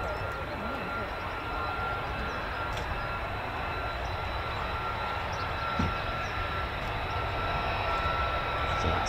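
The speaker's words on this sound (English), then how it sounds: "F-35?" An F-35 fighter jet passes overhead near RAF Lakenheath, a steady, broad jet roar holding at constant loudness throughout, with a faint high whine riding on top.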